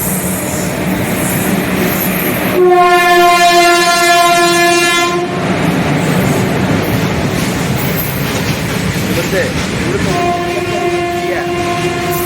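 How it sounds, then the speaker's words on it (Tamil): A heavy coal freight train hauled by a red-oxide locomotive rumbles steadily past at close range, with two long horn blasts sounding over the continuous rolling noise. "நிலக்கரி பாரத் சரக்கு ரயில் இது போயிட்டு இருக்குது."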